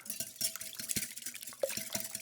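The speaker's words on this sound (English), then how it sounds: "I need to beat 5 eggs." Five eggs beaten with a whisk in a bowl, a quick rhythmic series of soft taps and clinks against the sides, close and quiet with no talking.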